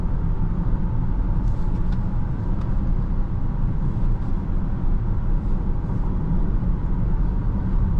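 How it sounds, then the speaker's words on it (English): Steady road and tyre noise inside the cabin of a 2021 Range Rover Sport HST while driving, a constant muted roar with no talk. "Road noise is not too bad. It's pretty insulated in this cabin"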